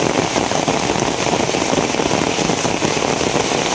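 Heavy rain pouring steadily, a loud dense hiss of drops drumming on surfaces with no letup and no voices.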